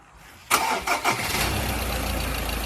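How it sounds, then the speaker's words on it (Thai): A high-roof cab pickup truck engine cranks briefly, catches with a loud burst, then settles into a steady, close idle. "เดี๋ยวผมสตาร์ทเครื่องให้ฟังด้วยนะครับ"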